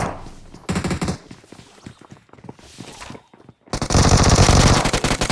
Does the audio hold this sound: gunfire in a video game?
yes